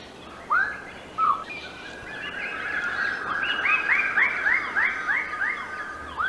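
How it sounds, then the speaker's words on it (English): Lesser birds of paradise calling while displaying on a communal tree in New Guinea: a few single upward-swept calls, then a loud, rapid series of repeated rising whoops close by, over a steady background hiss. "These lesser birds of paradise are displaying on a communal tree."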